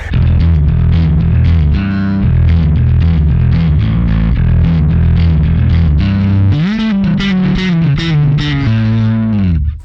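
A Chapman Stick's high side is picked through a SansAmp Bass Driver DI, giving a loud, continuous distorted, chorus-tinged run of notes with no talking.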